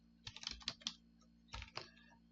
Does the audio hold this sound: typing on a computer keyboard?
yes